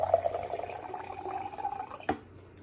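Filtered water pours from a LARQ pitcher into a glass, a soft gurgling trickle close by that ends with a brief clink and then fades to quiet.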